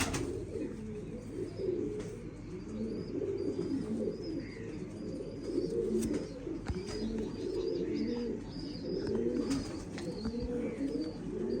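A flock of pigeons coos steadily and overlapping throughout, close and continuous, with a few faint higher chirps on top.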